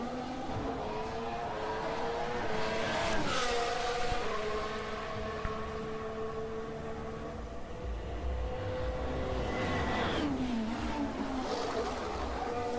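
Formula 1 car in qualifying at Abu Dhabi, its engine note sweeping up and down through corners and gear shifts, steady and somewhat distant throughout.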